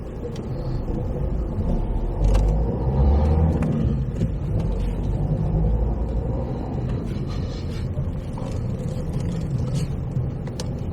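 A car drives through the town streets of Folkestone in the middle of the day, with a steady low engine and road rumble holding throughout and no talking.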